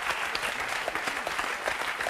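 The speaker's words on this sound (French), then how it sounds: "Merci Jenna, on peut vous applaudir ainsi que vos mannequins" An audience applauds models after a fashion segment on a French television talk show, a steady patter of clapping with no voices over it.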